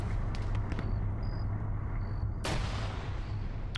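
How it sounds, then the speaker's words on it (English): Gunfire in the video game Arma 3 as enemy forces shoot at an MRAP vehicle, with scattered distant shots and then one loud sharp blast over a steady low background rumble. "now we're having OPFOR firing over at this MRAP"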